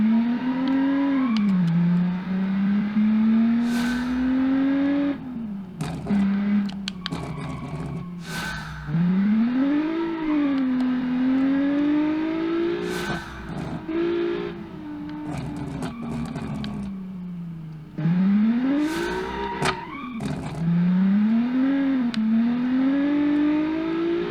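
A 201-horsepower V6 race car engine in the Automation game drones loud and steady, its pitch climbing through repeated gear shifts with sharp rises and drops, no voices over it.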